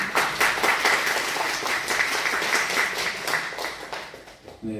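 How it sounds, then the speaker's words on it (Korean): Church congregation applauding during a Sunday worship service in a Korean church, a dense spread of many hands clapping that holds steady for several seconds, moderately loud, then thins out near the end. "박수 한번 드립니다."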